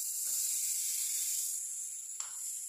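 An egg frying in a pan, giving a steady, quiet sizzle that holds throughout, with a faint tap near the end.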